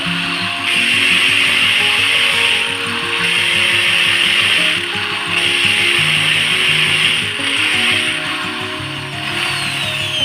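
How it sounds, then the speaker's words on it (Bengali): A loud electric drill whines steadily with a grinding, rattling edge as it bores into a wall, nearly unbroken for the whole stretch. "অবশ্যই ড্রিল মেশিনটা খুব ভালোভাবে ধরতে হবে।"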